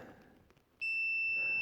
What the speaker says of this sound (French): ça fonctionne, le bip fonctionne